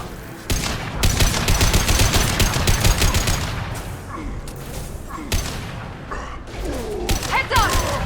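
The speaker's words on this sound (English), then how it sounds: "Firing now." Rapid automatic gunfire and heavy weapon bursts in the sci-fi shooter Mass Effect 2 Legendary Edition, loud sustained volleys with brief lulls and a few booms, while voices and game dialogue are heard intermittently.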